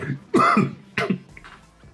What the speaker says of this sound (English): that was a disgusting cough